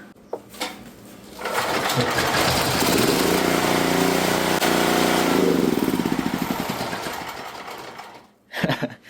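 A seized generator engine, freed up and pull-started by hand, catches on the first pull and runs loud and steady near the mic for several seconds with a buzzing, rapid firing rhythm before cutting out abruptly.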